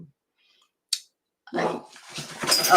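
A puppy gives a brief soft whimper after a moment of quiet, followed by louder dog vocalizing and scuffling close by.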